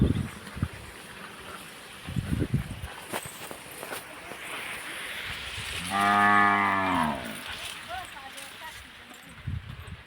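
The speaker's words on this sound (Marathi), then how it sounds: "जनावर बांधली वाटते म्हशी कुणी." Tied buffaloes on a farm let out a single loud, drawn-out moo lasting about a second, set against outdoor background noise and light rustling.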